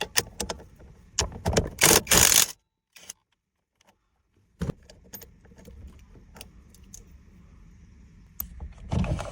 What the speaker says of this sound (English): Use a 19mm socket to remove this center retaining nut.